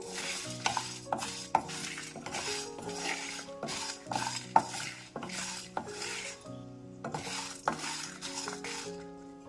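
Whole cardamom dry-roasted in a pan with no oil, stirred steadily: repeated close scraping and rattling of spoon against metal in an irregular rhythm, with a brief pause near the end, no voices.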